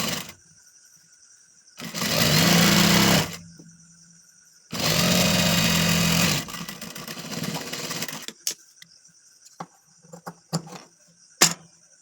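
A sewing machine runs over Patiala pants fabric in two steady bursts of stitching, each a little over a second long, followed by scattered clicks and handling noises close by.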